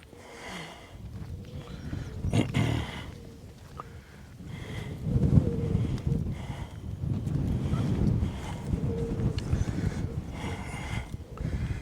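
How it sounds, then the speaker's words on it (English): Gusty outdoor wind buffets the microphone near an onion patch, a steady rough roar that surges and eases over about twelve seconds with no talking. "This wind's never going to die down."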